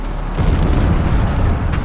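A gigantic explosion destroys a river bridge in a Napoleonic-era battle, heard as a loud, sustained low rumbling boom lasting about two seconds, dense and heavy throughout.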